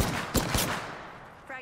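Two sharp gunshots sound in the Apex Legends video game, moderately loud, followed by a lingering tail and a faint mechanical clack at the end.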